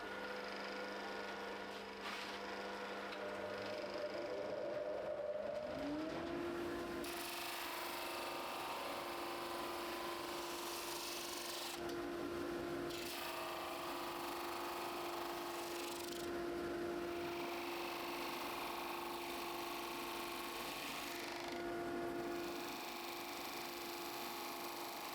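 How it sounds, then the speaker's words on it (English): A drum sander with a 120 grit belt hums steadily and works a wood and epoxy piece; the motor tone rises as it spins up, then the belt's rough grinding continues faintly and evenly, with the workpiece passing through. "Anyone who has used or owned a drum sander knows that it does take quite a few passes and a lot of time to remove any excess material."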